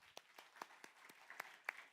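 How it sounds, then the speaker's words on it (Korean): A church congregation gives a short, faint round of applause for the men's choir at a Sunday worship service, with sparse distinct claps rather than a full ovation. "한번 남성교회 박수 한번 쳐주세요."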